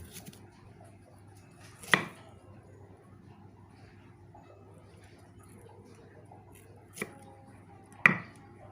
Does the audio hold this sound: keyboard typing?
no